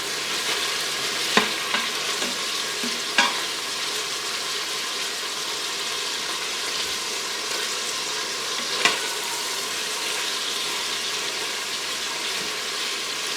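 Chicken and sausage jambalaya sizzles and crackles steadily in an Instant Pot at close range, with a few sharp clinks of a utensil against metal.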